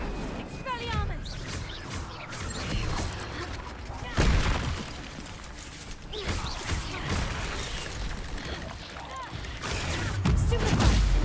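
Spellcasting in the video game Hogwarts Legacy: a rapid series of magical bursts, booms and crackling impacts, with a heavy hit around the middle, mixed with game effects and a voice that names the spells.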